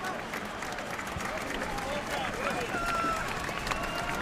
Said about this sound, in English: Eagle fans are up cheering again.